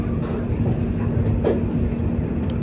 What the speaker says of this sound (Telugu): ఒక సింగిల్ ట్రాక్ మీద రన్ అవుతున్నాం ఇప్పుడు ప్రజెంట్